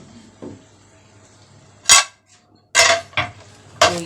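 A pot of cooked beef for beef yakhni pulao being opened in a home kitchen, giving a few sharp metallic clanks and scrapes of the lid with quiet pauses between them.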